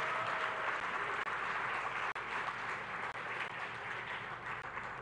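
An audience claps steadily at a Tanzanian digital technology event, a dense, sustained wash of applause lasting throughout with no voices over it.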